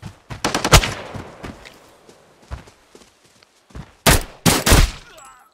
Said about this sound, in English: Shots behind you?